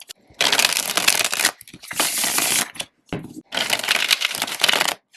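Riffle shuffles of a tarot card deck, three bursts of crisp fluttering card riffles, each about a second long, separated by short pauses, close and fairly loud with no voices.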